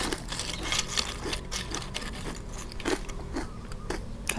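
Crispy baked vegetables, a sweet crunchy snack, crunched in the mouth with a series of sharp, close bites and crackles spread through the clip, without talk.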